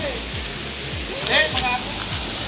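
A waterfall at a falls in Sitio Digisit, Barangay Savali, Baler, Aurora, gives a continuous rushing roar of falling water, with soft low thuds repeating underneath.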